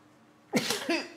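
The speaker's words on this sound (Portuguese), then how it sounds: "Espera aí, vou espirrar." A single sharp sneeze bursts out close and loud after a moment of near silence, with a short breathy tail and a second smaller voiced exhale following it.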